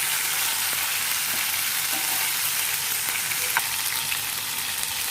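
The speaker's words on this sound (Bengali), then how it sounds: "আদা রসুনের পেস্টটা, ভালো করে পেঁয়াজ তেলের মধ্যে কষিয়ে নেব।" Ginger garlic paste and onion fry in oil with an even, steady hiss that stays close and unbroken, with only a faint tap near the end.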